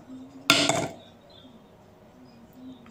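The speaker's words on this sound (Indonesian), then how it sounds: "kelereng dimasukkan ke dalam botol," A glass marble dropped into a bottle gives one sharp clattering impact with a short rattle, fairly close and alone in a quiet room.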